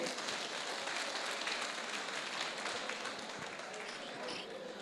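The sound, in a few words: audience applause for Amma at centenary celebration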